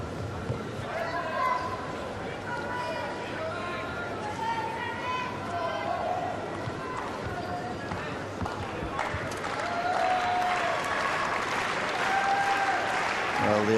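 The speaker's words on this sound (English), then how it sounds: "Well, the applause starts" An audience applauds at a chess match, the Paris 2003 semifinal, with steady clapping running under a commentator's voice and swelling louder toward the end.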